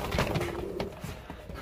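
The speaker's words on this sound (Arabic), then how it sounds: "حمام واقف كاليبر قباري" Several racing homing pigeons of a colored breed coo softly at close range in a loft, low throaty murmurs repeating amid faint shuffling and background rustle.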